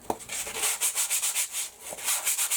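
A mixed media artwork gets a light hand sanding: a quick series of about a dozen soft, rhythmic rasping strokes, close and fairly quiet, with no voices.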